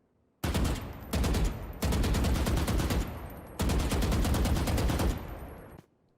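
A rifle in Valorant fires in four loud, close bursts of rapid shots, each lasting about a half second to a second and a half, separated by short pauses.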